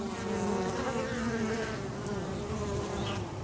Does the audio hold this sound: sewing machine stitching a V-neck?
no